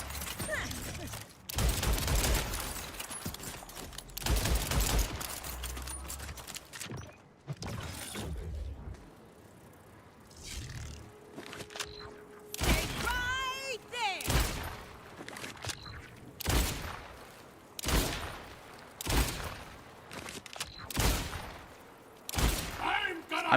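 Weapons fire in the video game Borderlands 4 comes in repeated loud bursts of gunshots, sometimes rapid and clustered, spread across the stretch with quieter gaps and some game sounds in between.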